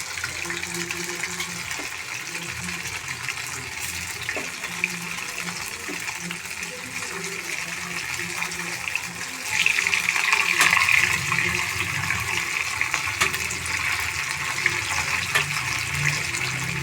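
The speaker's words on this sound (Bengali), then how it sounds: "এবারে তৈল গরম হলে বলগুলা দিয়ে দিচ্ছি," Chicken balls fry in hot oil with a steady crackling sizzle that swells louder about halfway through and stays up to the end.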